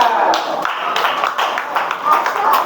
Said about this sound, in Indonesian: Oke, tepuk tangan dong buat gambarnya.